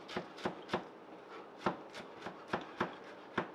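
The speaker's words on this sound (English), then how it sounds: "I'm just going to cut this up real quick." Knife chopping fresh cilantro on a cutting board, about a dozen crisp, close, fairly quiet cuts in an uneven quick rhythm.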